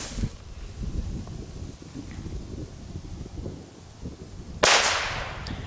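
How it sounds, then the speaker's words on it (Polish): An old Super Cracker firecracker bursts with a sharp but underwhelming single bang near the end, set against steady outdoor wind noise. "tu czekałem na solidne walnięcie z małej petardki, a tu jest lekkie zdziwienie"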